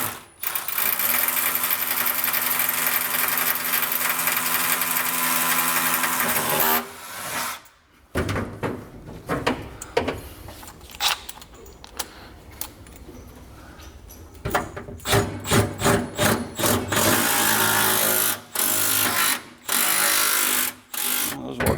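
A power tool tightens fasteners on a large Saber garage cabinet array, running in a long steady whir for about seven seconds, then in short repeated bursts with pauses between them, close and loud.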